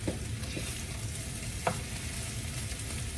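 Day-old short grain rice stir-fried with kimchi in a pan gives a steady, moderate sizzle with one sharper scrape of the utensil partway through and no talking.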